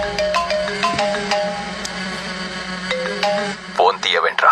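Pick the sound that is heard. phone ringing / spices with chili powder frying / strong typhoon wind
phone ringing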